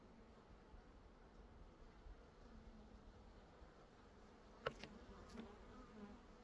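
Bees hum faintly and continuously in a January setting, a low, even drone, with a couple of brief clicks near the end.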